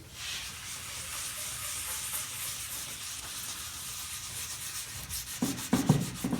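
Excess wood grain filler being rubbed off a guitar body, a steady close scrubbing and hissing friction that continues throughout, with a few louder, bumpier strokes near the end.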